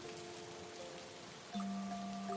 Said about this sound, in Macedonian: Надвор врнеше дожд.